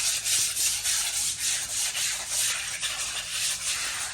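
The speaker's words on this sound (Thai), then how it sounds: "ใส่น้ำสะอาดล้างขัดนะครับ" Tiles being scrubbed with clean water to lift grout residue, a rhythmic close rubbing and brushing in repeated strokes, loud and steady with no voices.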